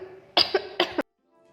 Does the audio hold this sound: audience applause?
no